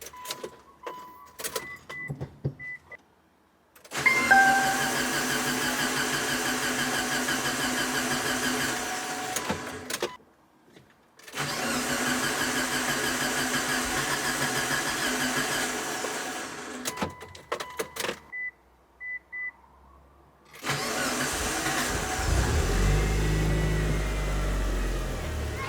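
Mitsubishi Evo 8 engine after a Walbro 255lph fuel pump install, cranking and catching in three long loud bursts separated by short silences, with some faint talk in between.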